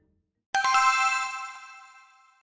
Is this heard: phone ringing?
yes